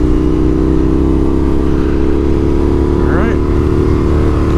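An Indian FTR 1200 R motorcycle rides steadily, its engine a loud, continuous close-up drone with a brief rising whine partway through; a voice speaks a single word over it.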